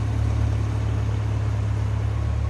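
A 1976 Toyota Celica GT idles smoothly with the hood open, a steady low engine hum held evenly and close for a couple of seconds with no talking.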